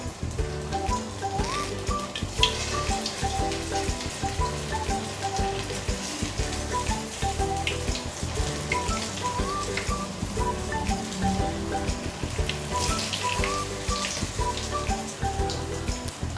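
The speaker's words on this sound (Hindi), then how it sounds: "हमने अपने सभी कोफ्ते बनाकर तैयार कर लिए हैं और अब हम इन्हें फ्राई करेंगे।" Koftas frying in hot oil in a kadhai, a steady, loud, close crackling sizzle that holds at an even level throughout with no voices.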